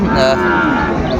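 Sahiwal bull calves low at a livestock market in Cumilla, Bangladesh, giving one short moo close by. People talk over it.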